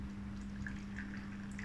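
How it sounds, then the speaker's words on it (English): Hot water poured onto tamarind pulp, a soft steady liquid pour with light splashing and trickling, fairly quiet over a low background hum. "For the tamarind pulp, I need to add some hot water"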